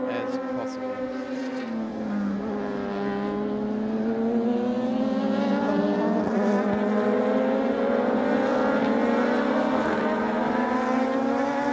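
Production race cars at Sydney's Australian Production Cars 240 leave the pit lane and circle into a rolling start, a steady layered engine drone with rising and falling pitch throughout, continuous and fairly loud, with commentary talk over it.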